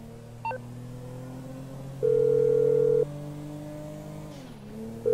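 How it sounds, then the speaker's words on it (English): A telephone dial tone in the GTA V video game during a call, a steady tone pulsing on and off twice, heard over a continuous idling car engine whose pitch dips briefly. "Let me call Lester."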